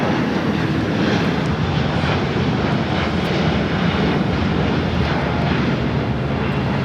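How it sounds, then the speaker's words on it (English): An All Nippon Airways Boeing 787-9 Dreamliner takes off at Los Angeles International Airport, its engines a steady, loud, broad jet roar that holds without a break throughout. "All Nippon Airways Flight 5 taking off to Tokyo Narita on the 787-9 Dreamliner"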